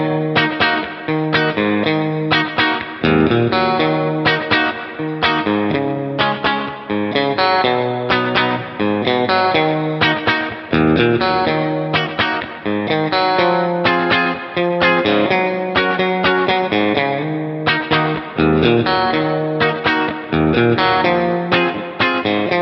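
An electric guitar, a Tele-style partscaster, plays through a Rat distortion and a Tone City Tiny Spring Reverb pedal into an Orange Terror Stamp amp. Loud, continuous, gritty distorted chords and riffs carry a springy reverb tail throughout.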